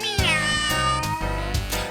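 A cat meows in a Halloween song, several drawn-out, tuneful meows in a row with backing music, loud and close.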